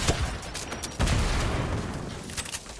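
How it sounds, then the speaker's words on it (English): Grenade explosions in Fortnite Battle Royale, a loud rapid burst of blasts at the start followed by a heavy boom around one second and a long rumbling, crackling tail, with no talking. "grenades, grenades, grenades!"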